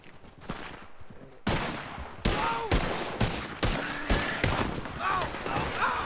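Gunfire in a Wild West video game, a volley of sharp, loud shots firing in an irregular rapid burst, roughly eight or nine cracks over several seconds, with faint background noise before the shooting starts.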